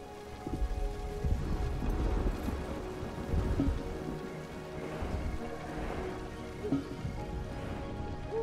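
Thunderstorm ambience in the village-building game The Wandering Village: steady rain patter with low rumbling thunder swells throughout, moderately loud and continuous, with no voices.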